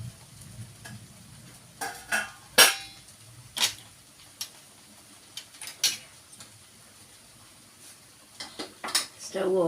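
Cooked thoran of raw banana and green gram being tipped from a pan into a serving vessel, with a few sharp scraping and clattering knocks of spoon on metal scattered over a quiet kitchen background.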